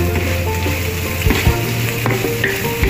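Smoked lumek fish cooking in a pan for Sarawak sambal, a loud, even sizzle close by with a couple of sharp clatters of a utensil, no talking.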